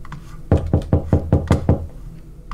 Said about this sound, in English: there's knocks at the door